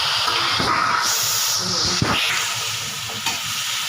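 Loud, close sizzling of tomatoes hitting hot oil, a steady hiss with occasional sharp crackles and stirring scrapes.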